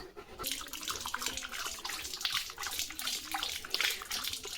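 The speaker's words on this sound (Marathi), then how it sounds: "पाणी पितोय" A dog drinks water, giving a quick run of wet lapping splashes that repeat irregularly at close range, fairly quiet, with no speech over them.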